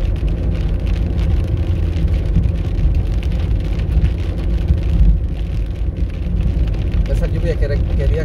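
Rain falling on a street, a steady dense hiss of drops on pavement mixed with the low rumble of passing car traffic, continuous throughout with a voice speaking faintly beneath.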